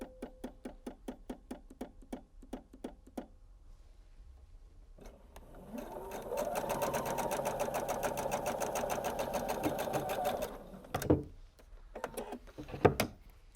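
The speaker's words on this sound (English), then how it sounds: "So I'm going to put that together, and I'm going to go ahead and stitch all the way through." A sewing machine stitches the center back seam of a basic blouse, a steady fast run of needle strokes for several seconds, preceded by a few spaced clicks and followed by knocks and handling of the fabric.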